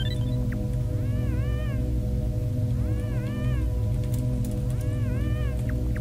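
Three repeated wavering cat meows from a cat effect in the video game Yume Nikki, evenly spaced over a steady droning game music background.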